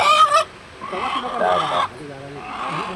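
Village fowl, native chickens gathered for a rice-field ritual, give a few close, sharp clucks and squawks among murmuring voices, with a brief loud burst at the start.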